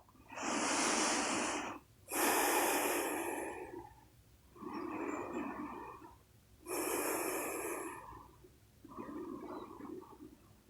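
Slow, deep breaths during a yoga session, alternating long inhales and exhales in a steady rhythm, close and clearly audible with no talking.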